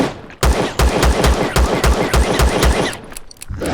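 A rapid burst of about nine evenly spaced gunshots fired at a creature in the Empyrion sci-fi survival game, loud and punchy, followed by a short tail and a couple of faint clicks.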